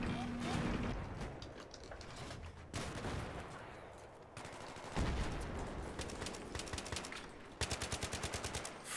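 Semi-automatic gunfire in Battlefield 3 comes as scattered single shots and then a quick rhythmic string of sharp cracks. It sits among other battle noise, with a faint voice underneath.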